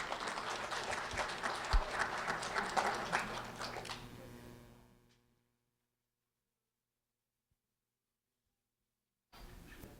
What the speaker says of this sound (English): a round of applause for Wilmer Cintron Martinez